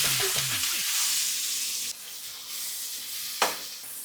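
Onions sizzle and fry in a hot pan for paneer Maggi, a steady close hiss with light stirring scrapes and a brief clatter near the end, no talking.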